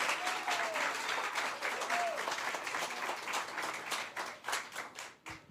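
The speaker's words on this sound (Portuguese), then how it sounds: "Mas aplaude mesmo." A church congregation applauds during a sermon, many hands clapping in a broad, steady roar that thins toward the end into more scattered, separate claps; faint voices may rise beneath it.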